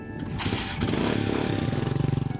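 Second-hand motorcycle engine running at close range, a steady loud drone that swells and then breaks into a rapid pulsing putter near the end, with no voices over it.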